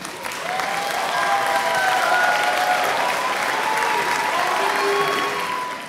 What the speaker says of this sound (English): thank you with a huge round of applause for making today possible.